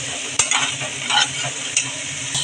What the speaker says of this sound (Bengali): 5 মিনিটের মতো কষিয়ে নেব।